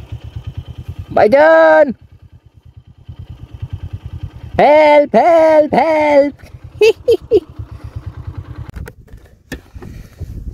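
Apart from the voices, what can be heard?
motorcycle engine, bike stuck in mud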